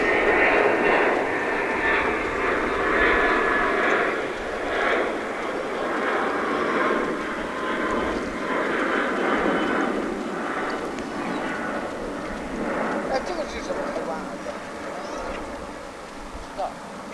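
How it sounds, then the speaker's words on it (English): An Airbus A321 jet just landed at DFW International Airport from San Antonio, Texas, giving a steady, fairly close engine roar that swells and eases over the whole stretch, with a voice talking over it. "This Airbus A321 just landed from San Antonio,"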